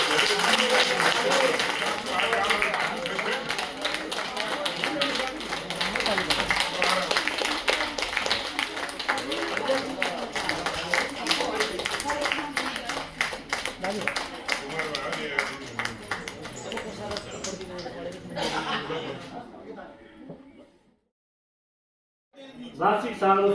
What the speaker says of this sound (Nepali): कृपया अझै ताली बजाएर उहाँलाई सम्मान गरिदिनु।